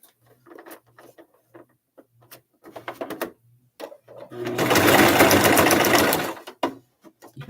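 A sewing machine stitches a label into a tufted pillow, starting with quiet clicks and handling noises, then a loud close whir of steady sewing for about two seconds before stopping.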